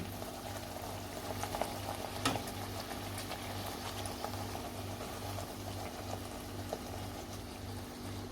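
Puris deep-frying in hot oil: a soft, steady bubbling sizzle with occasional small pops, faint and continuous, with no talk.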